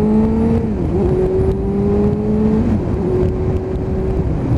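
A Suzuki GSXR1000 motorcycle with an end-can exhaust drones loudly and steadily while riding, its engine tone climbing and dropping slightly through shifts, close and continuous.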